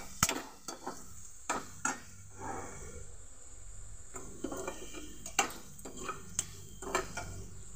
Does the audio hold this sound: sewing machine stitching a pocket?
no